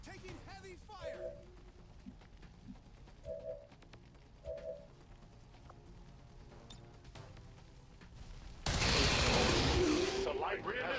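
Gunfire from the video game XCOM 2 is mostly a few faint muffled pops, then a sudden loud, sustained burst of shots near the end.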